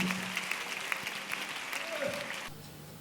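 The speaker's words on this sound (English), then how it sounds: "Clap your hands" A church congregation claps steadily during a prayer service while voices carry through the applause, which fades near the end.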